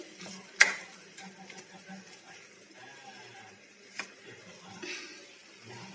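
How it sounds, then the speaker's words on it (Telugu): A spoon stirs a mixture with oil in a pan, with soft scraping and light clicks against the metal, a sharper knock near the start and a faint sizzle underneath, all quiet and close. "మెల్లగా మంచిగా అంతా కలిసేంత వరకు మంచిగా కలుపుకోవాలి"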